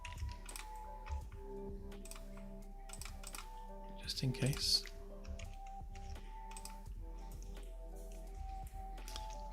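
Computer keyboard keys are typed in quick irregular bursts of close, soft clicks, with someone speaking briefly in the background.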